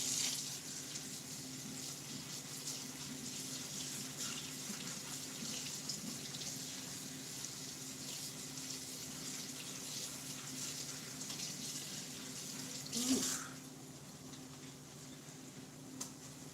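Water runs steadily from a kitchen tap while something is washed at the sink, a soft continuous rush with a brief louder splash near the end, no talk over it.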